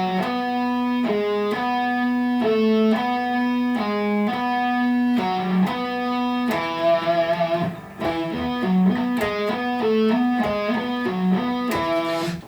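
An electric guitar with distortion plays a steady, rapid picked pattern from Bach's Partita No. 3, with the pinky adding a fretted note between the others, sounding clear and continuous.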